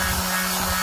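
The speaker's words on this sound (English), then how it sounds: "we're just putting a light sand on them because they really wasn't that bad," A steady, close, rasping rub of light hand sanding on car parts for a 1982 G-body Cutlass, heard alone for about a second.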